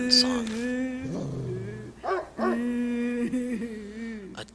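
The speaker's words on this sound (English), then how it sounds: "A dog is whining, like it's afraid of something." A dog whines in the Spirit Hunter: NG video game, a high, wavering cry that bends in pitch over several seconds, steady and fairly close against a quiet backdrop.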